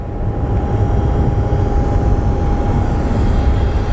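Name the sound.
airplane departing Sky Harbor International Airport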